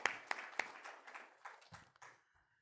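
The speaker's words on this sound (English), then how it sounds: "So big round of applause for him" An audience at a hospital talk on spine and pain management applauds a visiting doctor. A few loud separate claps open a short burst of fairly faint applause, which fades out within about two seconds.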